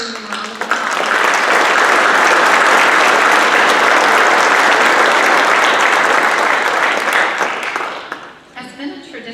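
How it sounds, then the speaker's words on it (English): Sustained applause from a meeting audience at an electric cooperative's annual meeting, a dense even wash of clapping that holds steady for several seconds and then tapers off near the end. "And I'd like to extend a round of applause."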